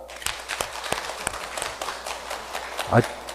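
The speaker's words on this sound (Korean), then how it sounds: "우리 신자 여러분들을 위해서 박수 부탁드립니다." Scattered hand claps from a small group at an Easter Vigil church service, sharp individual claps spaced through the moment while a voice talks over them.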